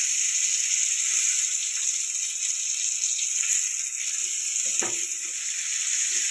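Rani fish (pink perch) with scored sides sizzling steadily in a frying pan, a constant hiss with a few brief clinks of a utensil against the pan near the end.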